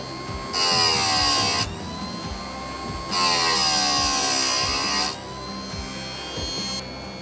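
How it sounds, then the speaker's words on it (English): A Harbor Freight electric chainsaw sharpener grinds a chain cutter in two long, loud whining bursts with a brief shorter touch near the end. Quiet pauses between the passes carry the motor's hum and faint clatter. "I took the sharpening easy so that I didn't overheat the cutter and ruin the heat treat"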